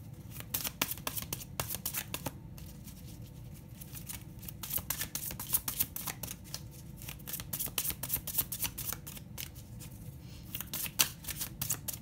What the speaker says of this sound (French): Je tire une petite carte de l'oracle de l'amour sur ce tirage plutôt amoureux du coup